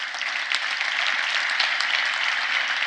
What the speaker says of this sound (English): applause really should be for you guys